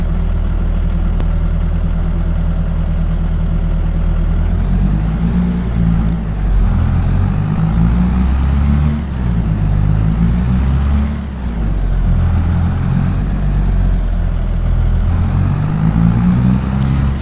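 A tractor engine in the Farming Simulator 22 video game idles and then pulls away with a baler, a deep, steady diesel rumble that rises and wavers in pitch as it takes off and labors under load.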